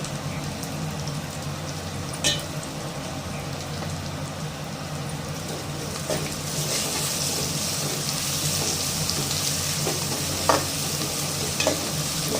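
Prawns sautéing with ginger and garlic in oil, a dense continuous sizzle with steady stirring and occasional spoon clicks against the pan, close and fairly loud throughout.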